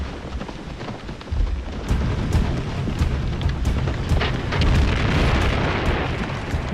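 A landing barge explodes during the Normandy landings, a loud low rumbling blast that swells and rolls on with sharp crackling bursts over a dense, noisy roar.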